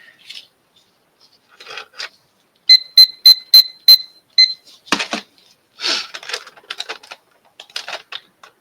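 A small kitchen timer used during tumbler crafting rings in a quick run of five bright, evenly spaced beeps, loud and close, with scattered handling clatter and rustling before and after.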